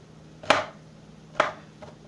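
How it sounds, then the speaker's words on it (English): Mushrooms are chopped on a cutting board for a spinach and egg pie, three sharp, separate knife strikes spaced about a second apart in a quiet kitchen. "Move the bowl again over there until I finish chopping up these mushrooms"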